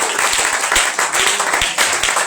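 A church congregation claps and applauds Jesus in dense, continuous applause with rhythmic beats, loud and close, with voices mixed in underneath.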